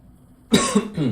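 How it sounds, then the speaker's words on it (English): A single harsh cough bursts out after a short silence, followed by a second rougher cough, close to the microphone. "Sorry, I got a bit of a cough."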